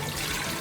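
Water runs steadily into a pot while lauki chana dal is prepared for pressure cooking, a continuous close splashing pour with no talk.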